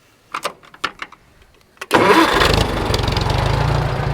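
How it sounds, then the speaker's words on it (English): A few mechanical clicks and knocks, then a tractor engine cranks and catches, settling into a loud, steady rumbling idle close by. "I'm gonna crank his tractor up for this"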